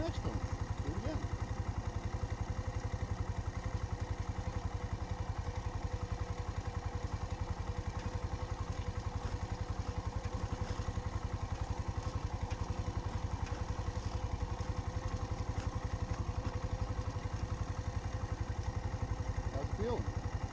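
Motorcycle engine idling during a riding lesson, a steady, faint mid-pitched putter that runs unbroken throughout with no clear revving.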